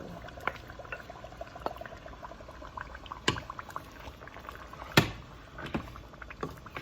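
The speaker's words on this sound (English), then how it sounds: "So I'm gonna put my beans in my stew." Beans tipped into a pot of stew simmering over a fire, with wet splashy plops and bubbling sounds scattered irregularly, including two sharper clatters, close by and with no talk.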